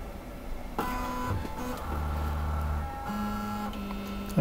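A toolchanger 3D printer homes its axes up close, its stepper motors whining in steady tones that shift pitch and stop and start as each axis moves, with a faint hum underneath.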